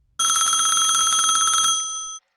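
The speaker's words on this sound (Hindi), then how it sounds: "एक मोबाइल फोन की घंटी बज उठी।" A mobile phone rings in one continuous bright electronic trill, loud and close, sounding alone for about one and a half seconds before a brief fading tail.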